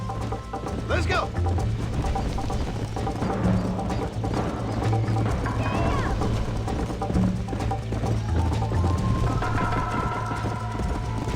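Hooves clip-clop in a quick galloping rhythm in the Red Dead Redemption video game, under a steady low rumble, with scattered mechanical clinks and a faint snort, continuing throughout.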